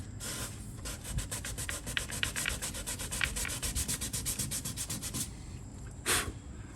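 Sandpaper works a fiberglass repair on an RV in quick, rhythmic back-and-forth strokes, a soft close rasping that runs for several seconds and then stops, followed by one last brief stroke.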